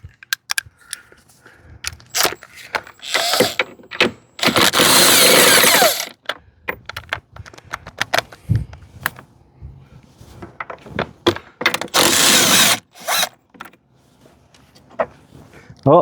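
A power tool drives a socket to remove a 13mm bolt from a 1996 Sea-Doo SPX watercraft. There are two loud, sustained bursts of whirring, one around two seconds long and a later shorter one, between clanks, handling noises and brief talk.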